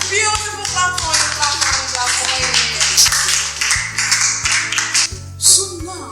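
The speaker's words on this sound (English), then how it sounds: "Clap for you." An audience in a comedy skit claps in a dense, continuous patter, with a steady musical beat underneath and some voices mixed in.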